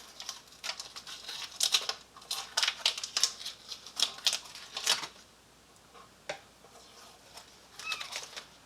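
Adhesive tape being pulled off the roll, torn and pressed down in a quick series of sharp rips and crackles, up close and quiet, with no talk.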